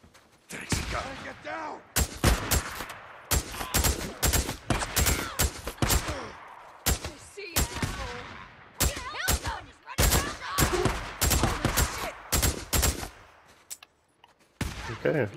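Gunfire in Days Gone rings out as a long run of loud, close, sharp shots, single and rapid bursts in quick succession with brief pauses between volleys.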